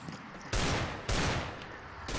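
Rapid, loud bursts of gunfire from the Minecraft MineStrike mod, three dense volleys in quick succession, each starting abruptly and trailing off, with no talking.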